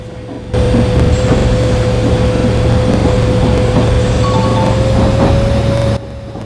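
A train in a simulator video game gains speed under gentle throttle, a loud, steady engine drone with a constant pitched hum that runs without a break and then cuts off near the end.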